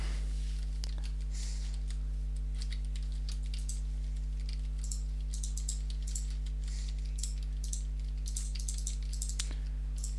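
Fast, light computer-keyboard typing during a Minecraft session, clicking in bursts over a steady electrical hum, with a few sharper single key presses. No voices.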